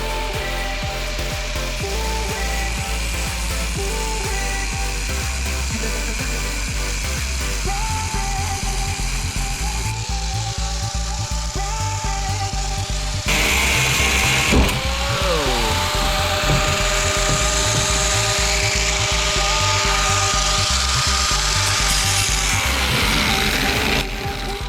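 A power tool cutting metal bars off an IBC tote grinds and whines loudly and continuously up close, its pitch shifting and rising as the blade bites into the metal, with no talking over it.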